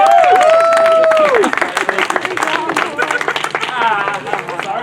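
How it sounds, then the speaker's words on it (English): Clapping and cheering from a sideshow audience after a sword swallowing act, starting under a loud whoop and talk, then uneven hands continuing beneath excited voices. "big round of applause for Or,"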